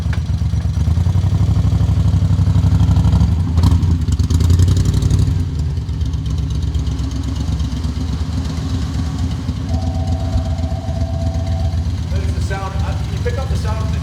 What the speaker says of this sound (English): Pick up the sound of the dry clutch. Come on a little closer, listen to the engine.